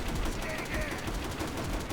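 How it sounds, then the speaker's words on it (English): Anti-aircraft gun firing in the video game Call of Duty World at War, rapid repeated blasts in a dense continuous burst, with a voice talking over it. "this anti-aircraft gun, I can't remember the exact designation"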